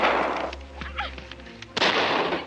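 Pistol shots in a 1952 war film: two loud, sharp bursts, one at the start and another after a brief quieter gap filled with low rumble and faint background sounds.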